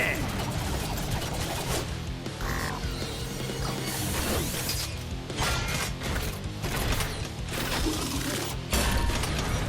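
Dense mechanical whirring, clanking and ratcheting effects of a robot transformation build continuously, punctuated by crashes and metallic clicks, loud and busy throughout.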